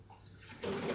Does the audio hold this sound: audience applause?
no